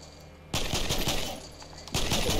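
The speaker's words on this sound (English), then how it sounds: "I know there's gunfire over here somewhere." Rapid automatic gunfire in the video game Fortnite, two loud crackling bursts of gunshots, the first lasting over a second and the second starting near the end, over a low background hum.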